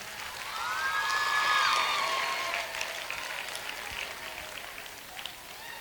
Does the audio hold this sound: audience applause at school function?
yes